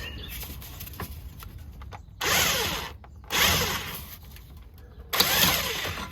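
Ratchet wrench loosening sway bar bushing bolts on an Infiniti EX35, with rapid clicking pawl bursts in three loud spells separated by quieter mechanical fiddling, close to the listener.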